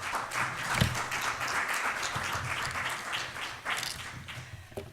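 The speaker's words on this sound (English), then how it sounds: "if you could give him a round of applause" An audience at a bar association panel applauds steadily for about five seconds, a dense wash of clapping that holds level before thinning slightly near the end.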